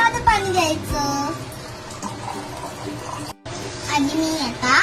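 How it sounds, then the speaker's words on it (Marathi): Plain water is poured into a glass in a home kitchen, a continuous splashing trickle with a short break near the end, while a voice talks over it. "सगळ्यात आधी अर्धा ग्लास साधं पाणी घ्यायचं"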